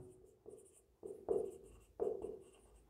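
Pen strokes scratch across paper as chemistry notes are written by hand, soft close-up scribbles coming in short bursts with brief pauses between them.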